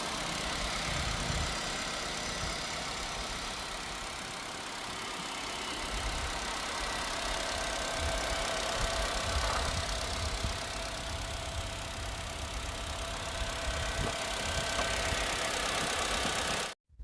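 A 2018 Honda Amaze petrol car sits idling in a steady, even drone with a faint knocking texture, close and continuous for the whole stretch before cutting off abruptly at the end.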